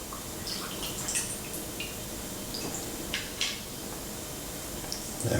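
Sparkling mint espresso is poured from a cocktail shaker through a strainer top, giving close, irregular splashing and dripping of liquid with small clinks, fairly quiet and free of speech.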